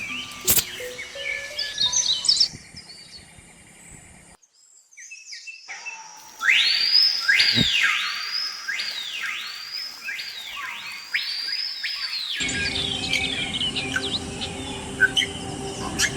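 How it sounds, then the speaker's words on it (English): Exotic Brazilian birds chirping in a run of bright, repeated sweeping calls, fairly loud and close, with softer scattered tweets before and after and a steady background hum in the later part. "Each tiny chirp is met with a gift of care."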